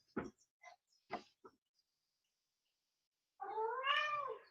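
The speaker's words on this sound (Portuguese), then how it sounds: "Deixa eu tirar o gato daqui." A cat meows once, loud and close, indoors after a few soft bumps and handling noises in an otherwise quiet room.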